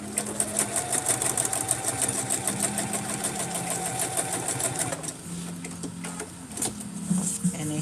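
A sewing machine runs steadily, stitching along the edge of fabric pieces for a McCall's 8193 pattern, with a fast even needle rhythm close by, then briefly slows and shifts before resuming.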